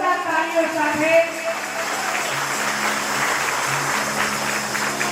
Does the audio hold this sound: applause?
yes